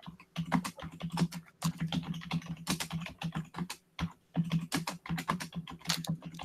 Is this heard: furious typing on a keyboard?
yes